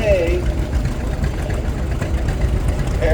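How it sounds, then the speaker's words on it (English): A 1936 John Deere A tractor runs in a parade, its steady engine chugging under a loud voice talking throughout. "Also from LaPorte, we got that 1936 John Deere A."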